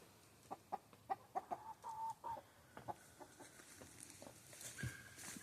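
A rooster on a farm with piglets clucks in a quick series of short, close, fairly soft notes, with a steady faint outdoor background.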